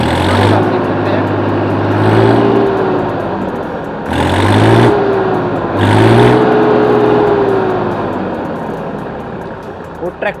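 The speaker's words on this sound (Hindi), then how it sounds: "अगर ट्रैक्टर के अंदर आरपीएम अगर मैं बढ़ाऊँ तो आप देख सकते हैं" A Massey Ferguson 7250 DI tractor engine revs up several times, each surge rising in pitch and then settling back to a steady idle, loud and close.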